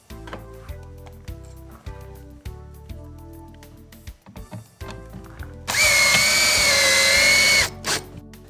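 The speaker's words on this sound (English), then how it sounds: "Install one screw at the end of your project to hold your starter strip in place." A power drill driving screws into a siding starter strip: short, repeated low whirring bursts, then one long, loud, high-pitched drilling run and a final brief burst, with no talk.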